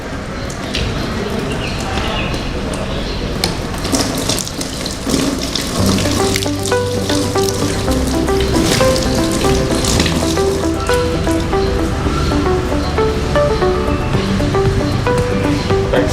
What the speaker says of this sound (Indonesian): Tahap selanjutnya adalah kita mencuci tangan